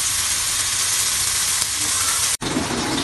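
Tomato paste hitting onions frying in a pan for Afghan shola, giving a loud, steady sizzle that runs throughout, with a brief dropout near the end before the crackle resumes slightly brighter.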